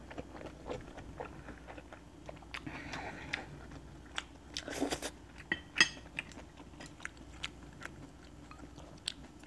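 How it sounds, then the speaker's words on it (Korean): Crisp, crunchy bites of radish, eaten at home alongside steamed egg and clam soup, with several short crunching chews in a rhythmic series, close and fairly quiet, plus a louder crunch burst in the middle and faint clinks of dishes. "무 씹는 소리."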